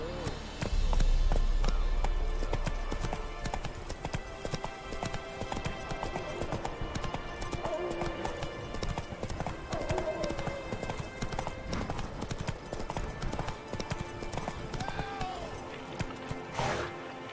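Hooves of a horse clip-clop in a quick, steady galloping rhythm in the video game The Witcher III, loud and continuous over a busy game soundscape.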